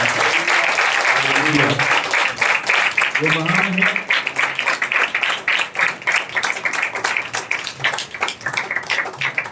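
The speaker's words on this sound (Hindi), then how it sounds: "एक बार जोरदार ताली के साथ हम प्रभु का" A church congregation at a fasting and prayer service bursts into loud, sustained applause to praise God. The clapping later turns into a rhythmic beat, and a voice speaks over it.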